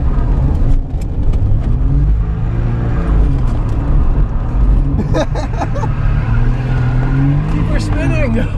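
Suzuki Cappuccino turbo kei car with an open differential accelerating hard, its engine roaring loud and steady with wheel spin and a brief tire squeal, while a voice talks over it.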